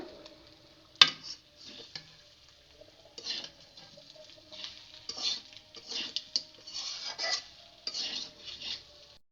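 Beef frying in a pan is stirred, with faint, intermittent scraping and clinking strokes of a utensil against the pan over a quiet background.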